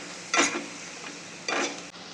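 Masala with red chili powder is sautéed in a pan, two distinct scraping strokes of a spatula rising over a soft background sizzle, close and brief.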